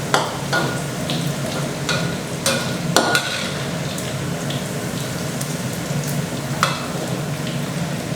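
Pork frying with garlic in hot oil gives a dense, even sizzle close by, punctuated by scattered crackles and utensil taps, with no talking.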